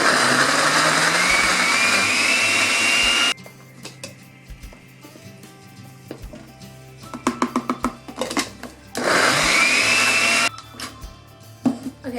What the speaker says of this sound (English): So I'm just going to blend it until it makes a puree.